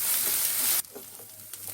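Chili paste and spice masala for prawn biryani frying in a pan over low heat: a loud sizzling hiss that cuts off abruptly, followed by quieter stirring scrapes and soft pops, close up with no talk.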